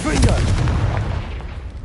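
A booming fire-spell explosion from the game Hogwarts Legacy, the Confringo curse bursting loudly and then rumbling away over about two seconds.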